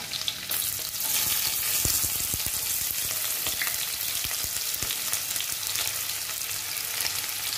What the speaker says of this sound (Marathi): आपण प्रथम लसूण घालून घेऊया, मग कांदा